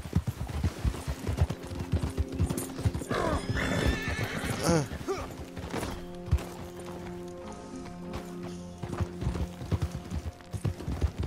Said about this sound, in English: Yeah, your horse is pretty slow.